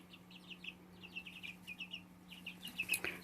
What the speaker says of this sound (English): And here are the crazy loud birds.